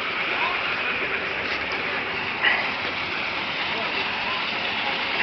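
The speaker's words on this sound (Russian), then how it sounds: "Идет дождь." Soft, even hiss of rain falling on an asphalt road in Minsk, a continuous patter with one small splash midway and no talk.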